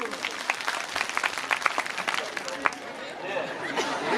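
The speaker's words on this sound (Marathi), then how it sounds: "ते टाळ्या वाजून सांगा मला" Audience applause at a live Marathi stage performance, steady dense clapping across the whole span with some crowd chatter mixed in, moderately loud and fairly close.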